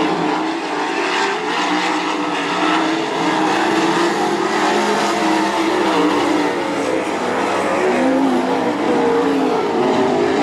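Sprint cars race into a turn on a dirt oval in a dash heat, their engines roaring loudly and continuously with rising and falling pitch as the pack sweeps through the corner.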